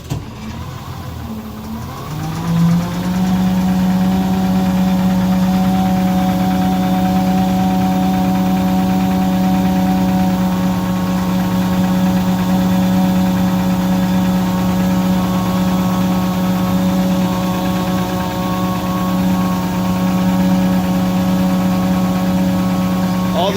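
A Butler truckmount carpet cleaning unit's engine starts with a brief crank, then settles into a loud, steady idle with a constant droning hum that runs unchanged for about twenty seconds.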